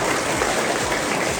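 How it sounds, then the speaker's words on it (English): A school assembly crowd at a third grade event applauding a student, dense steady clapping filling the room from start to finish with no pause. "Can we get another round of applause for the student?"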